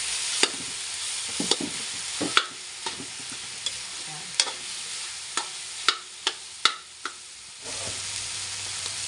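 Fresh miso is sautéed in a pot for tuna-head sinigang, a soft sizzle under repeated sharp scrapes and clacks of a spoon stirring, irregular and close, with no talk.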